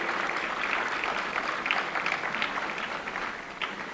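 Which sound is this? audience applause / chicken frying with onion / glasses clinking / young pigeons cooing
audience applause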